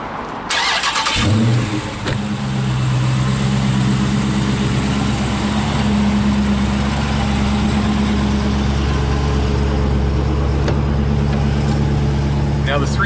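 A 2016 Dodge Charger SRT 392 V8 starts with a sharp crank and bark after a short pause, then settles into a loud, steady rumbling idle heard close for the rest of the clip.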